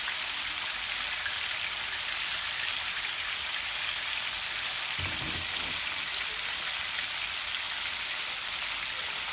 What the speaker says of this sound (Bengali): আমার মাছটা ভাজা ভাজা হয়ে যাক